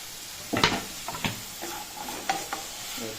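Grated coconut stirred into sautéed capsicum and tomato in a pan: a few distinct spatula scrapes and knocks over a faint sizzle, close and fairly quiet, with no speech.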